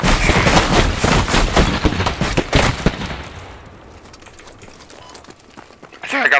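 Rapid bursts of gunfire in the video game Squad, a dense run of sharp shots for about three seconds that then fade into quieter distant pops, with voices talking over the action.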